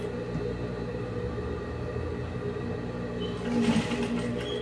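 Domestic sewing machine stitching fabric for a two-in-one fringed bed topper, a steady low mechanical whir near the microphone, rising briefly louder toward the end.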